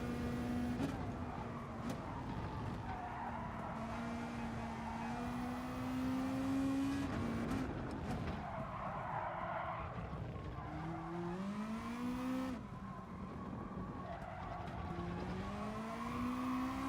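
Race car engine in Gran Turismo Sport, droning steadily and rising and falling through gear changes, with tyres squealing as the loosely gripping car slides through corners; continuous and close throughout.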